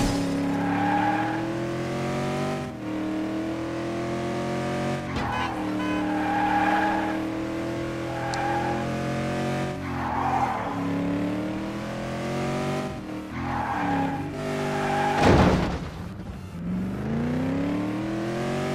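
A BMW in the Gangstar Rio video game drives with a steady, revving engine, its tires skidding and squealing in several bursts, with a sharp loud impact near the end.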